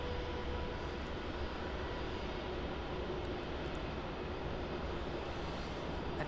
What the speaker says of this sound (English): already rolling down the runway